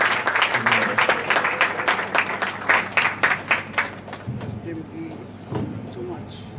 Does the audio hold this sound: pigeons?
no